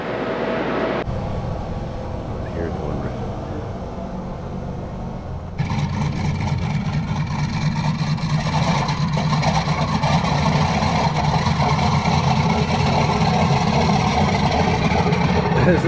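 A Pratt & Whitney R-4360 Wasp Major, a 28-cylinder double-bank radial aircraft engine, running with a steady rough drone that grows louder partway through and then holds at a dense, continuous roar.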